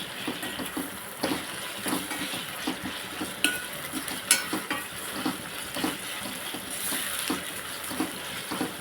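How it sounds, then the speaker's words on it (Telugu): Green chillies and ginger fry in oil for a chicken curry, with a steady sizzle under repeated scraping and stirring strokes of a spoon against the pan, close by. "పచ్చిమిరపకాయలు అల్లం వేసి బాగా పచ్చివాసన పోయేలాగా వేపేసుకుని"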